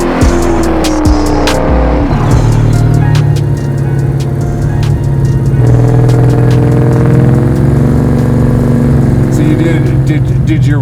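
A garage-built 1970 Chevelle making 500 wheel horsepower drives and accelerates, its engine roaring loud and close throughout with rising and falling revs, and occasional clicks and rattles over the top.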